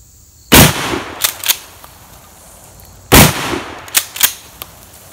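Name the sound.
shotgun firing 3-inch Winchester Super X number 6 shot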